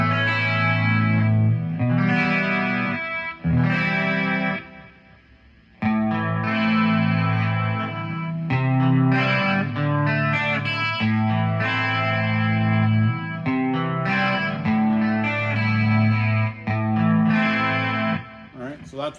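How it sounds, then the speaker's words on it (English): Electric guitar played through a new amp with a chorus effect, shimmering sustained chords and melodic lines that cut out briefly midway, then carry on loud and close. "then I've got more of a chorus sound."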